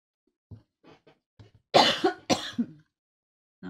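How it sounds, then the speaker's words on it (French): Several sharp coughs, two loud ones in close succession after a few softer throat-clearing bursts, close to the microphone with no talking. "je ne sais pas ce qui m'a fait tousser."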